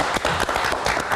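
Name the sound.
applause for a guest on a TV show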